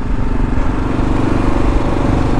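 A 2023 Kawasaki KLR 650 motorcycle engine drones steadily on a trail ride, a loud, even rumble with no pauses and no voices.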